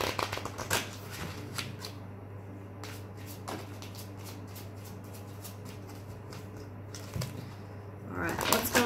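Shuffling of a Romance Angels oracle card deck, a steady papery riffle-and-slide texture running throughout with a few sharper card snaps, fairly close, under a low constant hum and with a brief burst of talk near the end.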